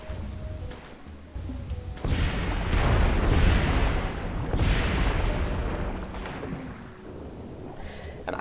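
Battleships firing on enemy units in the strategy game Civilization III, set in a World War II scenario: a loud series of overlapping booming explosions and rumbling blasts swells and fades over several seconds, with no talking.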